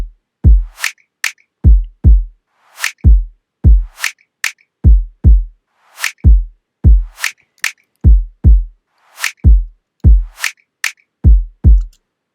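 A chillout kick and snare loop: deep booming kicks alternating with sharp snaps in a steady repeating groove, loud and dry with nothing else playing.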